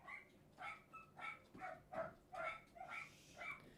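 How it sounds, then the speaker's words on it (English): Dogs bark in a steady series of about eight evenly spaced barks, moderately distant and fairly faint, with no talk over them. "Sorry about the dogs barking."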